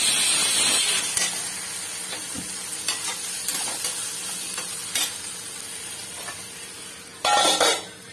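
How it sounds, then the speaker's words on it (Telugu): Turmeric and asafoetida fry in a pan for a traditional drumstick sambar, giving a steady broadband sizzle with scattered crackles and pops, louder at the start and again near the end, with no voices. "కొద్దిగా పసుపు వేసి కొంచెం ఇంగవ కూడా వేస్తున్నా అండి."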